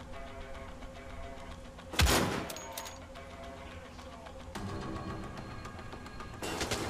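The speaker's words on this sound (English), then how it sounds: "Grab the sniper rifle. Now we're going to start taking the guys out." Sniper rifle firing in Wolfenstein: The Old Blood, one loud sharp crack with a short decaying tail, followed later by quieter thumps against a low steady background.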